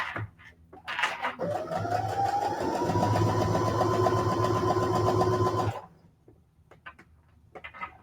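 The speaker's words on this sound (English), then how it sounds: "Okay, so I'm just going to do a straight stitch all the way down, making sure my fabric is even." A sewing machine runs a straight stitch down a length of fabric, whirring in a fast, steady needle rhythm for about five seconds close up, framed by brief quiet handling noises before and after.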